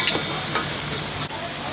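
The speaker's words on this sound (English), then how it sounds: "She just added a little bit of one bowl of water" Steady bubbling sizzle of thick chili paste simmering in a pan with added water, continuous and close, with a faint stir or clink partway through.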